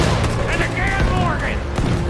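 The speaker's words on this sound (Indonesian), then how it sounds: "Ini meriam, cuy. Bukan mini gun" A cannon fires in the Red Dead Redemption 2 video game, with heavy booming blasts and rumble packed into two seconds over a busy in-game soundscape, while someone talks over it.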